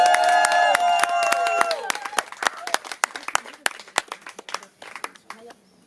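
At a slam poetry evening in Vence, a tonal musical phrase fades out as a small audience breaks into clapping. The claps come sharp and distinct at first, then thin into scattered, fading hand claps.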